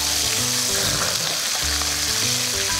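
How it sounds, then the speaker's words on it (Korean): Soy sauce hits frying meat and onions in a wok while making tray jajangmyeon, giving a loud, steady sizzle with stirring scrapes throughout. "양조간장 조금 넣어주시고 그러면 이제 수분이 들어가니까 이제 좀 푸한 소리가 나긴 하죠."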